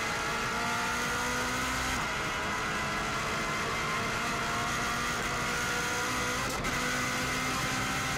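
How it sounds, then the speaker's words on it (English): A 2016 Subaru WRX STI driving flat out over the bumpy Isle of Man TT road course, a loud continuous engine roar with road rumble, one sharp jolt of a bump late on. "Car bouncing around quite a bit."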